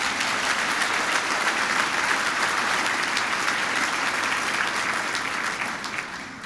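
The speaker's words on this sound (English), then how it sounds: "I think that's worth a round of applause, don't you?" Round of applause from a crowd at a university graduation ceremony, dense sustained clapping filling the hall at steady volume for several seconds before beginning to taper off.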